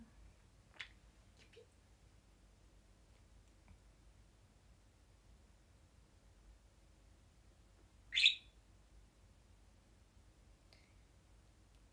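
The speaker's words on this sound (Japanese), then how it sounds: "インコ喋るよ" A female pet parakeet indoors gives a couple of short, isolated chirps separated by long quiet stretches, faint with one sharper call standing out.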